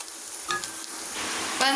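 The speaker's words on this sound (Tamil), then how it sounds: "பாருங்கள், நல்லா வதங்கிக்கிட்டே இருக்குது" Onions sauté in a pan toward golden brown for a restaurant-style chicken gravy, giving a steady close sizzle broken by a few sharp spatula scrapes and clinks.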